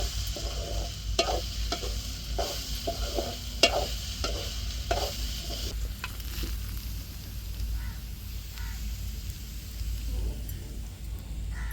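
Okra frying in a pan is stirred with a spatula, giving a steady sizzle broken by a series of scraping and tapping strokes in the first half, then continuing as a quieter constant crackle.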